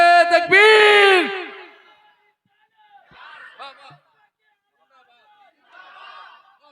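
A crowd at a religious gathering roars the Takbir slogan in a loud, drawn-out chorus, followed by two fainter, shorter bursts of shouting voices.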